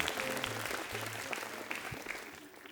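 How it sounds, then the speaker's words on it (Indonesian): An audience at a stand-up comedy show applauds as a comedian is introduced, with steady clapping that fades slightly over a couple of seconds. "Tepuk tangan buat Chandra."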